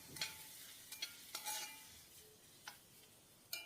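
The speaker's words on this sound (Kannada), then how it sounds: "ಚೆನ್ನಾಗಿ ಈ ಮಸಾಲ ಪದಾರ್ಥನ ಎಣ್ಣೆಯಲ್ಲಿ ಒಂದು ಅರ್ಧದಿಂದ 1 ನಿಮಿಷ ಫ್ರೈ ಮಾಡ್ಕೊಳ್ಳೋಣ" Spiced masala frying in oil for a garlic pepper rice, stirred in a pan with several sharp scraping strokes over a soft steady sizzle, no voices.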